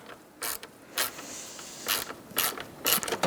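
A ratchet wrench clicks in short bursts, close and fairly quiet, as self-threading bolts are tightened down on a radiator in a 2012-2017 Hyundai Accent, with about six separate ratcheting strokes.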